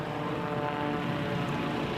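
A propeller-driven race plane at the Red Bull Air Race in Detroit drones steadily overhead, a continuous engine buzz at moderate distance without voices.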